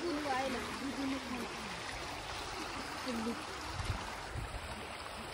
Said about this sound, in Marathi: ते आपलं कॅनलचं पाणी तिकडनं जात असते वेस्टेज सांडपाण्यासाठी